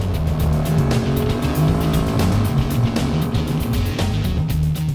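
Quad ATV with a 675 cc single-cylinder engine riding in automatic mode, with a loud, steady engine drone and pulsing exhaust heard up close throughout, and no talk.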